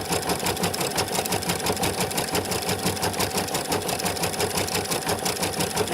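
A sewing machine runs steadily, stitching thread down over yarn on a rose appliqué for a baroque-style dress. Its rapid, even mechanical chatter carries on alone throughout.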